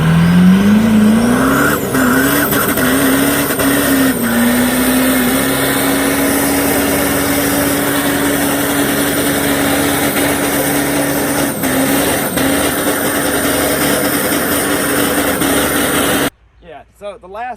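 A Cummins diesel truck does a hard burnout, its engine holding a steady high roar with rising pitch early on while tires squeal continuously beneath; the noise stays loud and sustained, then cuts off abruptly near the end.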